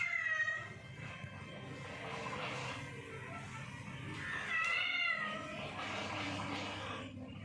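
A playful kitten meows repeatedly in a long, wavering, high-pitched series, rising and falling close to the listener over a constant background hum.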